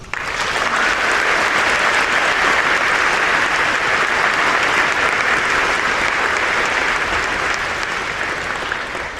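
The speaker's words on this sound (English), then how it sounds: "can I get a round of applause for all the students" Audience applause for students at a class of 2028 induction ceremony, a dense, loud, sustained wave of clapping from a large crowd that holds steady and tapers slightly at the end.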